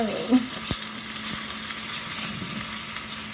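Fries, shrimp and ground beef fry together with chicken in hot oil, a steady close crackling sizzle with a few soft knocks of a utensil against the pan.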